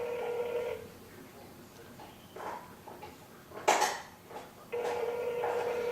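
A telephone rings repeatedly as heard through a phone line while waiting for an answer, two-burst tones alternating with quiet gaps, moderately faint, with a clatter in the middle.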